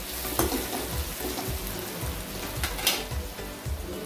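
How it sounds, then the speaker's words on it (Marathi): Onion frying in a pan for a raw jackfruit curry, giving a steady close sizzle with light crackles and soft stirring scrapes, no voices. "आता आपला कांदा छानपैकी फ्राय झालेला आहे"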